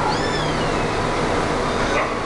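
A cat meows up close, with a drawn-out wavering call near the start and a shorter one near the end, over a loud, steady noisy background and no talking.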